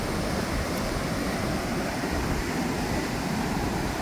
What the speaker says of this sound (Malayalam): വളരെ ഉയർന്ന തിരമാലകളാണ് നമ്മൾക്ക് അവിടെ നിന്ന് വരാൻ വരുന്നത് കാണാൻ സാധിക്കുന്നത്